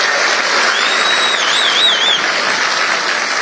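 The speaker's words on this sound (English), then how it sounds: "Give that man a round of applause." Dense, loud applause from a large crowd at a political rally on the carbon tax, a continuous roar of clapping lasting the whole stretch, with a faint whistle briefly rising above it.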